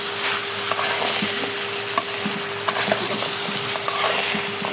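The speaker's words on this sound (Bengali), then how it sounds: "সবজিটা কিন্তু ভালো মতো কষাই নিচ্ছি" Vegetables with turmeric and chilli powder sautéing in a pan, a continuous soft sizzle with occasional scraping clicks from stirring.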